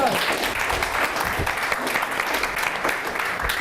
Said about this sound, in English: can I say this is just the first round of applause